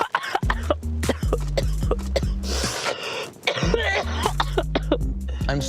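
A person is caught in a harsh, repeated coughing fit: rapid bursts of loud, hacking coughs with raspy throat clearing and gasping breaths between them, close and continuous throughout.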